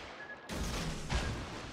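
Torpedo hits on a warship in a naval video game, a sudden loud explosive crash after a quiet moment, followed by a second heavy boom and lingering rumble.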